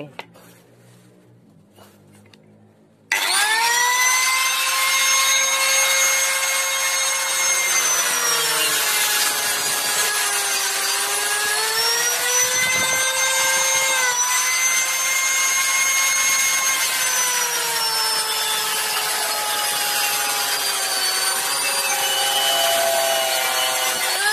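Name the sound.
sawing a used PVC pipe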